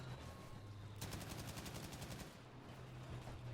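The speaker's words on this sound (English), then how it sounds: "just popping people off here with the MG" Machine gun fire from a vehicle-mounted turret in Battlefield 5, heard as a rapid sustained burst of sharp, evenly spaced shots lasting about a second and a half over a steady low game drone.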